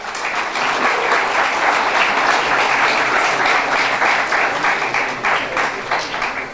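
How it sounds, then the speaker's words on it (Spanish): Steady applause from an audience of social and peasant organization members, teachers and students at the Universidad Central del Ecuador, a dense, even wash of clapping that holds at full strength for about six seconds before easing slightly. "Un aplauso, por favor, a todos ellos."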